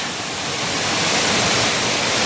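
Mettuguda waterfall at Seethampeta running with high flow after rain, a loud, continuous rushing roar of falling water that builds slightly and holds steady, with no one speaking.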